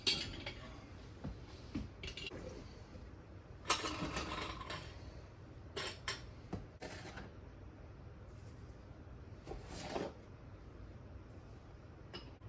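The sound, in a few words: jar of green beans placed into the canner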